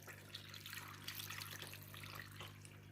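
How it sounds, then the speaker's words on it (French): Water pours steadily into the bowl of a Compact Cook Pro kitchen robot for a squash and carrot soup, a continuous close splashing rush lasting about three seconds over a faint low hum. "je vais mettre mes 500 g d'eau"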